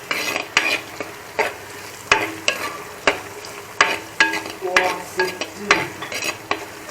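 A spoon scrapes and knocks against a pot on the stove in a steady series of sharp strokes, close and clear over a faint sizzle, with no talking.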